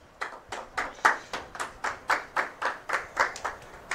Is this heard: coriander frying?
no